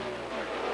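An Indycar at Pikes Peak in 1998 races across the finish line, its engine a loud, bright, continuous high-revving whine over a brief moment.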